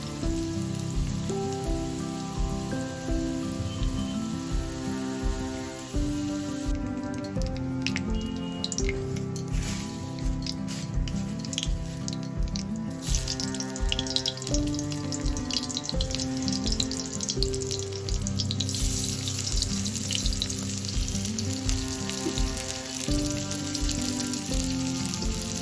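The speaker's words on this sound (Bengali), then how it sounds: "ডিমের কারি বানানোর জন্য আলুগুলো ভেজে নিচ্ছি।" Potatoes frying in a pan for egg curry give a steady, continuous sizzle that stays even throughout, with a crisper, brighter hiss in the middle stretch.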